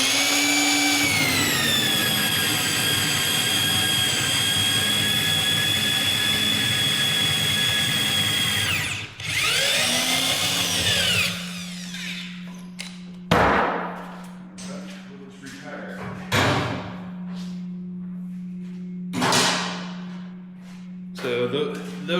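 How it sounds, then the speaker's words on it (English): Electric drill labouring as it drives long lag bolts into a log bench, a long continuous whine near and loud, then a low steady hum broken by several sharp thumps and short bursts. "I've been running lag bolts in with that drill, so it doesn't like long lag bolts"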